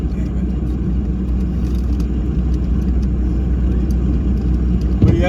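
A small car driving on a road in traffic, its engine a steady low rumble heard close by, with a brief louder burst near the end.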